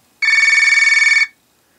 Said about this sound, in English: Then we have Classic Touchmatic.